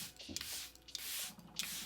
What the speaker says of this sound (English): I'm gonna set my face with the Charlotte Tilbury Flawless Setting Spray